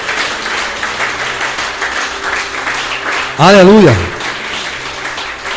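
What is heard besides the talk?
congregation applauding in church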